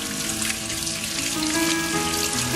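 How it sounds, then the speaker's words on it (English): Rainwater trickles and patters steadily down a six-foot copper rain chain of bell-shaped cups, a close, continuous splashing with faint drips and no voices. "It makes this nice tranquil sound as the water goes from cup to cup down the"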